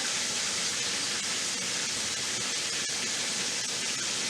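An Instant Pot pressure cooker vents steam in a steady, loud, broadband hiss that holds unbroken throughout, close to the listener with no voices.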